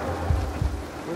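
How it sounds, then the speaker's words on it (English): Rain during a night thunderstorm at a campsite in Rocky Neck State Park, East Lyme, Connecticut: a dense, steady wash of falling rain heard from inside shelter, with a couple of soft low thumps. "You guys, listen to the rain."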